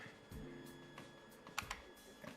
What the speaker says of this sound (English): I'm pressing F on my keyboard to center.